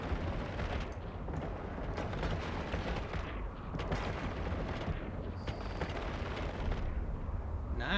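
Weapons fire steadily in the space game EVE Online, a dense, loud rumbling barrage of blasts and booms that runs without pause.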